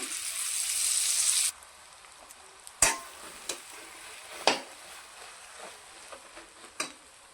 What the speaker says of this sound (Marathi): या तुपामध्ये आपण हे पुरण परतून घेऊया